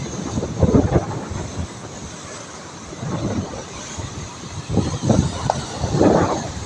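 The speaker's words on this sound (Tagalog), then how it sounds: "Lakas talagang alon, wala pang bagyo yan." Strong sea waves roar and rumble in heavy surges, loud and continuous, with no voices.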